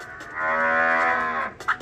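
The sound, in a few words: cow mooing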